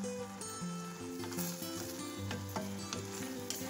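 Curry leaves sizzle in hot oil for chow chow curry, a soft steady frying hiss with occasional crackles and stirring, fairly faint beneath background music.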